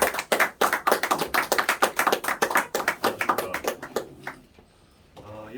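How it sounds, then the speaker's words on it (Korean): An audience at an indoor political gathering claps to welcome a speaker, a brisk burst of many hands that thins out and fades after about four seconds. "힘찬 박수로 환영해 주시기 바랍니다"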